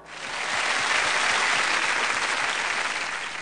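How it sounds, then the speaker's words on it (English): Audience applause at a school annual day function, a dense, steady burst of many hands clapping that swells in quickly and holds loud throughout. "Audience, give a huge round of applause"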